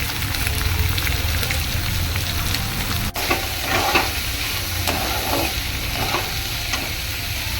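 Chopped onion with crushed garlic fries in a pan for a dry cluster bean bhaji, giving a dense, steady sizzle close by, with a brief dip midway and light stirring scrapes throughout; nobody speaks.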